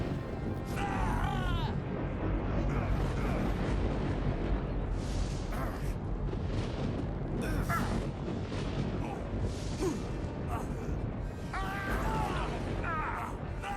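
The Hail to the Storms spell in Gothic 3 roars as a continuous, loud storm of rumbling blasts and booming impacts that sustain for over ten seconds, with crackling bursts layered on top.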